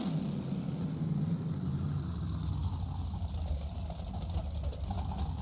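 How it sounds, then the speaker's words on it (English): Monster trucks at a Nashville arena show rumble steadily at idle while lining up for a semifinal round, a continuous low engine drone with crowd ambience and faint voices underneath. "See the trucks getting lined up."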